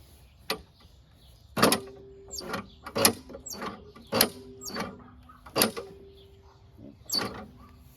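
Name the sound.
pulling the recoil starter cord of a WeedEater push mower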